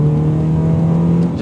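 A modified Honda Accord Euro with a tuned automatic transmission kicks down and accelerates hard, its engine a loud, steady close-up drone with no voices.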